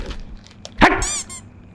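A single sharp dog bark rings out close by, followed by a brief whine, with quiet background noise around it.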